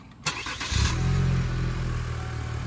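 A 2017 Chevy Malibu engine with an aftermarket intercooler and a reduced engine power warning cranks briefly and catches, settling into a steady loud idle nearby.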